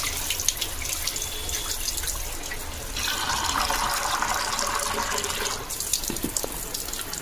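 Tap water runs steadily into a sink at an outdoor washing spot while kitchen items are rinsed, a loud continuous rushing stream that briefly thickens as things are held under it, with no voices.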